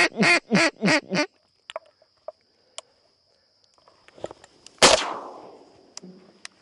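Teal ducks on an opening-day hunt in Nebraska give four quick loud quacks up close, followed by scattered small knocks and a single sharp gunshot echoing away.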